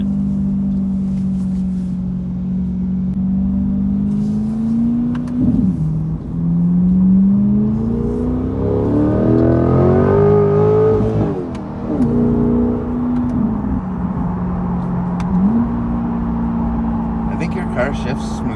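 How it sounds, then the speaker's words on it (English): A Chevrolet C8 Corvette fitted with an aftermarket center exhaust drones steadily up close, then snaps through several quick downshift blips where the engine pitch rises and falls before settling back into a smooth cruise. "It's got a nicer sound to the downshifts than the stock exhaust does."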